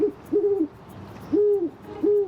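Three clear owl hoots repeat at a steady pace, each a short rising-falling call, close and distinct against a quiet background.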